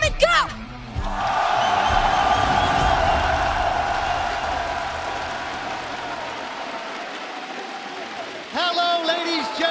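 A large arena crowd at the EMEA Masters Summer esports Grand Final in Montpellier roars with loud, sustained cheering and applause for the two finalist teams. A voice is briefly heard at the start and end.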